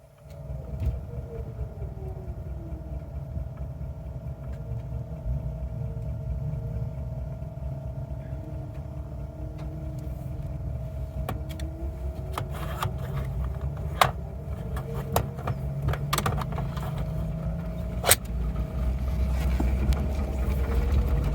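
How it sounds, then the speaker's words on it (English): A low, steady engine rumble from Land Cruisers driving nearby on an off-road trail at Moab, droning continuously with slowly shifting pitch, plus scattered clicks and light knocks. "We can hear the exhaust of the other vehicles."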